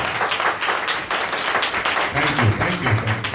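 An audience at a Hindi-speaking Christian gathering claps in dense, lively applause that carries on throughout, with a voice faintly audible beneath it.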